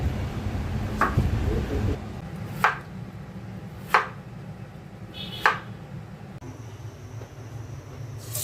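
Knife chopping eggplant (brinjal) on a board in a home kitchen: four sharp, well-spaced cuts at a steady slow rhythm, close and clear over low room rumble.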